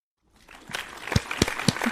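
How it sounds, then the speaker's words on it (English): Rising from silence, a small group's applause builds into a round of scattered clapping with several sharp, close individual claps standing out. "Round of applause."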